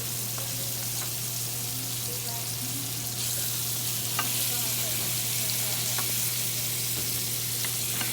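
Pork chops sear loudly in a hot pan, a dense steady sizzle and crackle with occasional pops, close and continuous without talk.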